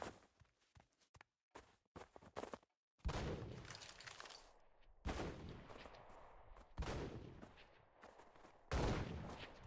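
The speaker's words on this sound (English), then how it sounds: "I'm shooting at the Wraith." Bursts of gunfire from the online battle royale game CRSED, loud broadband shots in clusters with brief gaps, growing heavier and more sustained in the second half, no talking.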